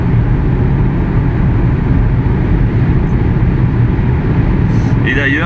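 An MG4 X-Power electric car accelerating hard fills the cabin with a steady, loud low rumble of road and drivetrain noise that holds evenly throughout.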